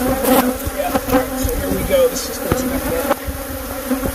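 Honey bees from a hive living inside an RV buzz loudly and steadily up close, a dense droning swarm with brief knocks and handling sounds, and a voice speaks faintly beneath.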